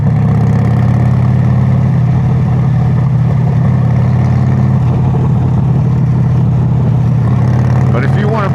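A Ducati motorcycle with a dry clutch idles loudly and steadily up close, with a low thrumming rumble and a rattling clatter running all the way through. Someone talks over it.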